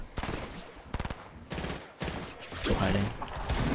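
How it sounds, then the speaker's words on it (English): Gunfire in Fortnite Battle Royale: rapid volleys of close shots from several weapons at once, dense and overlapping in short bursts, with a player's voice talking over the shooting. "I just got shot by like 5 people!"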